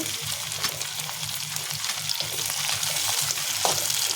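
Tomatoes dropped into onions frying in a pan, a steady loud sizzle with crackling and occasional stirring scrapes, no talking.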